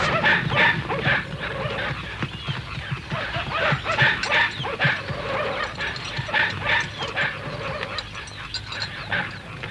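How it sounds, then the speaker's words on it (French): Dogs in a village bark repeatedly over nearly ten seconds, several animals overlapping in an irregular chorus of barks and yips at moderate distance, with a few whimpers mixed in. "En réalité, ça n'était que les chiens du village."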